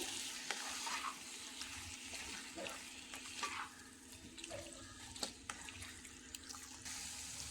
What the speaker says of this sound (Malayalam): കുറച്ച് സമയം ഇളക്കി കൊടുക്കണം